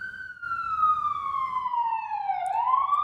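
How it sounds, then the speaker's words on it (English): A siren wails nearby, its pitch sliding slowly downward as it passes, then jumping back up at the end, with a low rumble underneath. "Let this siren pass."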